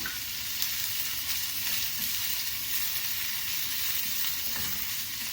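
Onions and curry leaves fry steadily in a pan, a continuous bright sizzle with faint crackles holding at an even level throughout, no voices present.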